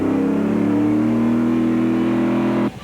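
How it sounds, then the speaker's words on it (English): Winston Cup race car engine fitted with a Dynamax muffler, a loud, steady, high-revving drone held close for nearly three seconds before it cuts off abruptly. "you can tell just by listening that this car is equipped with a Dynamax muffler"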